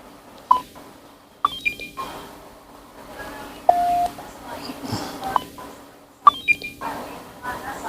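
Short tone beeps from a UV-K5 handheld radio running IJV mod firmware during a roger beep test, heard as brief electronic chirps and one sustained tone between pauses, with someone talking nearby.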